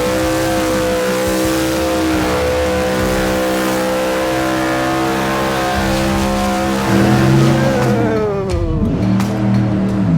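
A car doing a burnout along the Skid Row strip at Summernats, its engine revving hard and loud in sustained rising and falling harmonics, close by, with tyre noise and a surge near the end.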